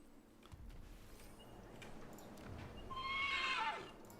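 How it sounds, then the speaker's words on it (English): Horses whinny in the Total War Warhammer video game, a single high, wavering neigh rising loud near the end over a low rumble of game ambience. "Horse sounds."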